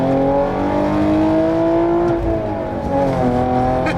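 A Hyundai Genesis 3.8 R-Spec engine revs loud and close, a strong sustained tone climbing and holding, dipping briefly, then rising again, with no talking over it.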